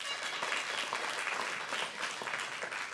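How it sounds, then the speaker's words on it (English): Audience applause at a community theatre production, steady dense clapping from a crowd that holds for the whole stretch without a break. "So big round of applause"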